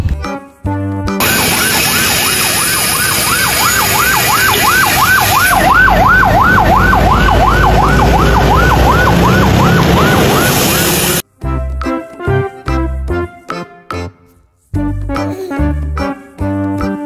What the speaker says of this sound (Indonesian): Ini mobil ambulan, teman-teman.